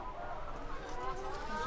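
Chickens cluck in a mobile hen house on a farm, a steady murmur of soft clucking and chatter from several hens close by, with a low background rumble underneath.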